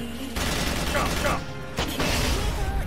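Video game gunfire on a PS3 bursts in short, loud cracks and booms with gaps between them, heard up close amid other game noise.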